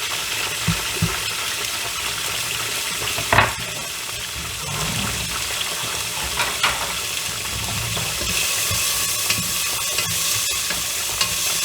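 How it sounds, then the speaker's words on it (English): Chopped onion frying in a pan for an Egyptian moussaka sauce, a steady close sizzle with occasional stirring scrapes and clinks, no talking over it. "For the sauce, we'll start with frying the onion until it changes a bit"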